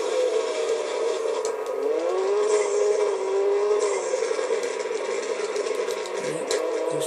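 A Skoda rally car in the WRC 3 racing video game drives with a steady, close engine drone whose revs rise and fall slightly, with no talking.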